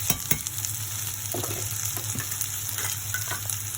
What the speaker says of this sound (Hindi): ये सभी को थोड़ा इस तरह से फ्राई कर लेंगे